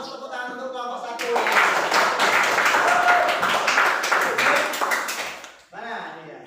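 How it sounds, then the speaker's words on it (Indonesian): A group of people claps for the first team in a lesson, a thick burst of rapid applause lasting about four seconds, framed by a voice speaking just before and after. "tepuk tangan untuk kelompok 1"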